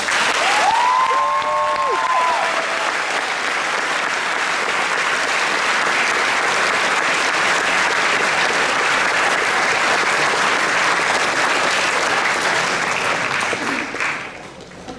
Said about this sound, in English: Can we please get one big round of applause?